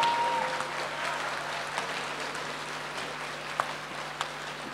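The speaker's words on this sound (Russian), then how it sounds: "Так, аплодисменты, друзья." Applause rises from an audience at a Moscow freediving show after a 40-metre dive, fairly quiet and diffuse throughout with a couple of sharper claps near the end.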